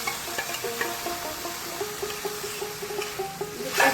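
Tomato paste and ginger sauté in a pan for Bengali fish kalia, a soft, fairly quiet sizzle with intermittent clinks of a utensil stirring, and a brief louder scrape near the end.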